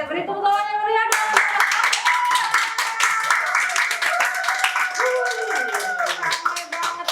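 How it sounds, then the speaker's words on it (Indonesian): An audience claps steadily and warmly after a talk ends, a dense patter of many hands lasting several seconds, with a presenter's voice speaking over it. "Beri tepuk tangan yang meriah dong."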